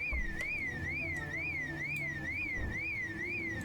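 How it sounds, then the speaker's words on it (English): A house alarm goes off in the zombie survival game Project Zomboid, a steady wailing electronic siren sweeping up and down in a fast regular cycle, sounding somewhat distant and moderate in level, with no talking. "I think they set off the alarm."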